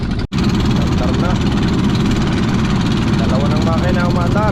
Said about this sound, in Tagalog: Dalawa ng makina umandar.